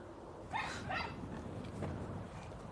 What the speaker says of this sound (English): there's another dog in this garden. He's playing with his owner.